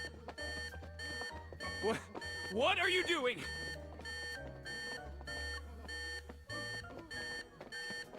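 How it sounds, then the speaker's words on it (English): A smoke detector alarm sounds in a fast, regular series of sharp electronic beeps that repeat steadily under people talking. "Did we set off the smoke detectors?"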